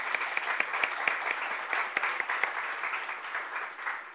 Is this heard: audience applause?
yes